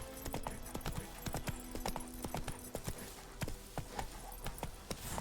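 Roach, the horse in the video game The Witcher 3, clip-clops along with a steady, close hoof rhythm and a few brief ringing tones behind it. No one speaks.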